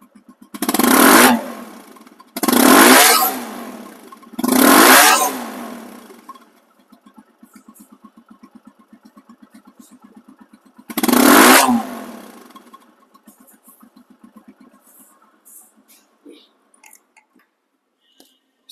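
A second-hand RTR 160 2V motorcycle engine revs hard in three quick bursts, then settles to a steady idle before one more sharp rev and a return to a low, even idle. The sound is close and loud.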